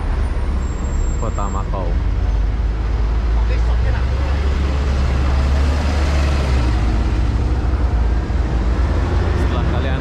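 A bus pulls into Macau amid heavy road traffic, making a continuous deep rumble with a hiss like an air brake. A voice speaks briefly near the start.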